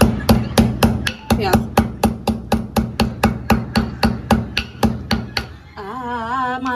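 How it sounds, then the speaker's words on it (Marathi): Cardamom pods crushed in a home kitchen: a quick regular run of about twenty sharp pounding knocks, loud and close, stopping near the end as a voice starts speaking. "इलायची चेंदून घेते."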